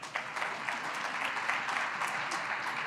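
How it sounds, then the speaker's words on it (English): Applause from an audience at a business brunch with Ontario Premier Doug Ford and ministers, steady clapping from many hands throughout, moderately loud and close. "We get one more round of applause for them."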